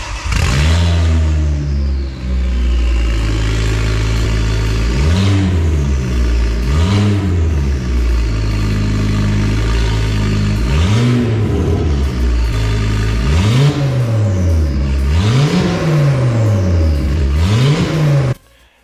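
A Mk2 Ford Focus ST engine running with no exhaust fitted revs again and again, each blip rising to a raw, loud bark and falling back to a rough idle, close and harsh, without speech.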